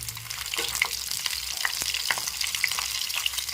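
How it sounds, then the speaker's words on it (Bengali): Cauliflower florets sizzle and crackle in hot oil in a wok while they are stirred with a little salt, a steady close frying hiss broken by a few sharp scrape clicks. "এবার কফিগুলো তুলে দিচ্ছি কড়াইয়ের মধ্যে তেল গরম হয়ে গেছে"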